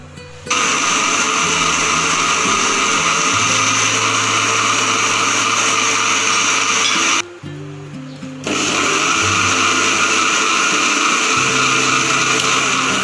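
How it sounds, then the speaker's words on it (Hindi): A juicer blender grinds fruit with almonds for a homemade milk-style power shake, a loud steady motor whine running continuously, briefly cutting out for about a second midway before starting up again at full strength. "अब जूसर को मैं इधर ग्राइंड करूँगी।"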